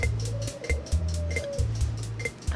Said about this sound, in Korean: 아 지금 저기 비둘기가 있어서요.